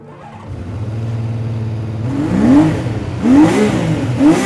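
A 1978 Honda CBX motorcycle with a 1047cc inline six-cylinder engine idles close by, then revs in three rising, sharp blips, loud and alone.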